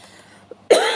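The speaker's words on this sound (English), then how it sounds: "this really niggly cough" One sharp, close cough from a person with a lingering niggly cough, breaking through quiet room tone after a soft faint click.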